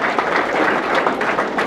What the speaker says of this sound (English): All right, how about a round of applause for Sam Holder